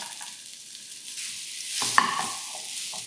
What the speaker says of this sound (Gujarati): હવે જે સ્ટફિંગ છે એને તેલમાં સાંતળી લેવાનું છે.